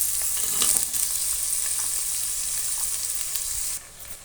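Potatoes, carrots and other vegetables frying for bread palav, sizzling steadily in a pan while being stirred, a dense hiss that drops off near the end, with no voices.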